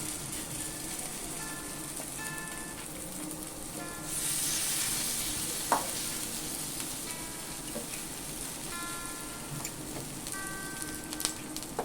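Small cabbage and tomato bhaji frying in oil, a continuous close sizzle that swells louder midway, with a faint clink and a steady background hum.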